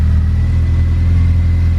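A Honda S2000 sports car engine rumbles steadily, revving with a deep, throaty exhaust note through new exhaust tips close by, loud and continuous with no voices.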